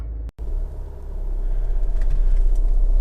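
A Honda HR-V 1.6 i-DTEC diesel engine runs at idle, a low, steady rumble close by that grows slightly louder after a brief dropout, with no speech.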